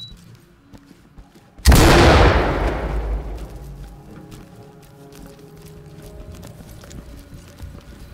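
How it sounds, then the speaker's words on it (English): A flashbang grenade detonates in the Ready Or Not tactical shooter inside a diamond store: one sudden, loud blast that rings out and decays over a few seconds into quiet room tone. "Deploying flashbang."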